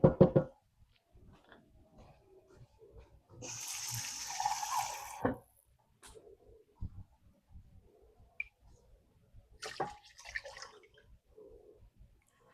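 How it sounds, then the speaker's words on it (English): Water runs from a tap into a pot of jasmine rice in a brief, steady pour of a couple of seconds, framed by knocks and clinks of cookware and a later shorter splash. "And then I'm going to add some little bit of water."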